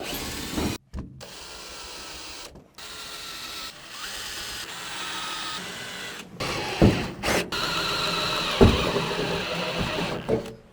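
Power tool, likely a drill, punching holes through truck carpet for carpet clips, running in several loud bursts with brief pauses, close up and without talk.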